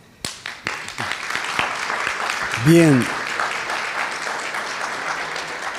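Applause from the audience at a ceremony for an anniversary event, scattered claps building into steady clapping under a person speaking briefly.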